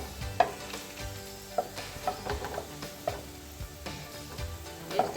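Crisp onions sizzle steadily in hot oil, with scraping stirs and clinks of a utensil against the pan as they are moved and lifted out; no talking.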